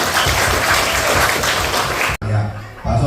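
Loud, close applause from a crowd at a school alumni reunion, dense clapping with some laughter that cuts off abruptly, followed by a brief murmur of room noise.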